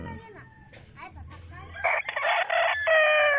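A Yellow Legged Hatch gamefowl rooster crows loudly and close by, with two strident calls in the second half, while someone talks quietly in the first part.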